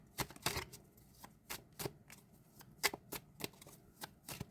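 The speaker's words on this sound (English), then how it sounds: "I'm just shuffling the deck." A deck of tarot cards is shuffled by hand, a quiet run of crisp, papery riffles and flutters in uneven bursts, close and soft with no talk.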